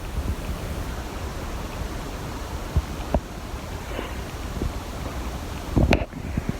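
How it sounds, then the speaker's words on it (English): Blizzard wind blowing hard outdoors, a gusty broadband rush with low rumbling buffets and a few sharp thumps, with no speech. "it's just super windy out there, and it's blowing around quite a bit"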